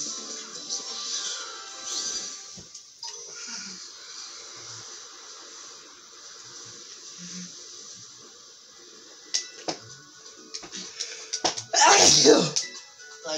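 A single loud sneeze bursts out near the end, following a stretch of quiet talk and faint background sounds during a Pokemon Scarlet play session.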